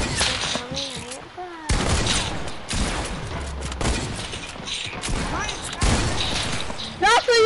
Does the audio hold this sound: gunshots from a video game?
yes